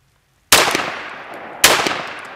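Two loud gunshots from a handgun firing .45 hollow point rounds about a second apart at an outdoor target, each a sharp crack with a decaying tail, no talking.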